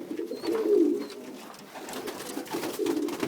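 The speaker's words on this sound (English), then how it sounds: "These pigeons are 2 days old." Two-day-old pigeon squabs coo softly during hand feeding, with low, throaty murmurs that rise and fall repeatedly at close range.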